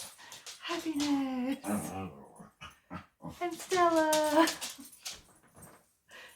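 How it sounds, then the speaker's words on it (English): A loud dog gives drawn-out whining, whimpering vocalizations in two long bursts, mixed with a person talking nearby. "so squeaky couch, loud dog"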